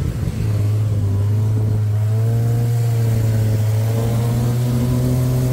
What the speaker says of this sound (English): We're riding in the oldest tuk-tuk in Thailand.